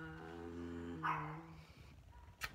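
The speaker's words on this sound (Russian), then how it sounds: "мои собачки кавкуют" Small dogs bark faintly in a couple of short yips against a quiet indoor background.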